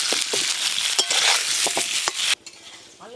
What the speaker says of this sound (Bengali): ধুয়ে রাখা আলুগুলো লাল লাল করে ভাজবো।